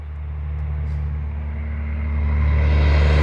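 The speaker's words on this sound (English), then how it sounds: "Another big truck coming, I could hear it." A big truck passes at night, heard as a steady low engine rumble that slowly swells louder as it draws nearer, with no voices.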